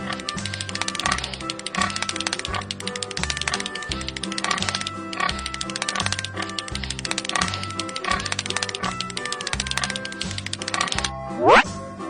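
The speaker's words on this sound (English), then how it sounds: "Pig." Pig oinks and grunts repeat over a busy, steady rhythmic music bed, with a short rising squeal near the end.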